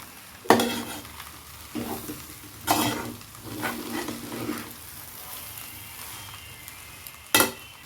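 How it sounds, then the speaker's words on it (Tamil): Egg masala rice is stirred in a hot pan, the spoon scraping and tossing it in several separate strokes over a light sizzle. The pan sounds close and moderately loud, with short pauses between strokes and a sharp clatter at the end. "கொஞ்சம் கொஞ்சமாக சாப்பாடு போட்டு கிண்டணும்."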